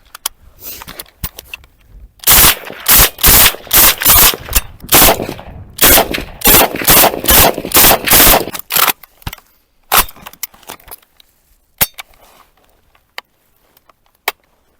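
Bursts of rapid clicking and rattling from a Ukrainian Vulkan toy or replica automatic rifle, fired in several quick strings at close range, then scattered single pops with quiet gaps and no talk.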